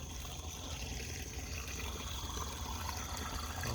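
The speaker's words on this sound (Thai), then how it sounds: "น้ำไหล" Water flowing steadily in an outdoor setting, a continuous rushing and trickling wash that stays even and fairly close throughout, with no talk.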